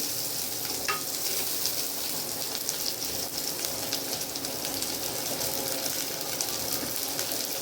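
Sliced onions hiss and sizzle steadily in hot oil in a frying pan, a continuous close crackle with a few faint stirring clinks and no talk.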